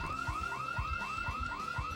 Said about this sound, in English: Case tripped the store's alarm.